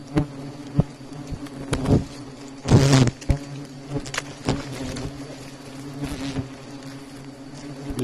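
Wild hornets buzz around a hornet nest, several loud close passes rising and fading as insects fly near, with quieter buzzing between and no talk.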